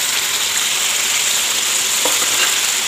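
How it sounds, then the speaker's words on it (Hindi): Chicken frying with ginger-garlic paste for chicken korma, a loud continuous hiss of sizzling oil filling the whole stretch, steady and close with no talking. "अब हम इसमें अदरक लहसुन का पेस्ट डाल देंगे। अच्छे से भून लेंगे।"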